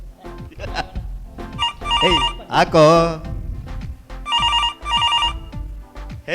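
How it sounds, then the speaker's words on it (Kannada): A telephone rings in repeated melodic bursts, loud and close, with a voice shouting over and between the rings. "ಇವನದ್ದು ಫೋನ್ ಬರ್ತಾ ಇದೆ, ಕೋರ್ಟ್ನವನದು."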